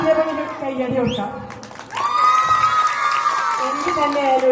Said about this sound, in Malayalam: കയ്യടി കൊടുക്കാം.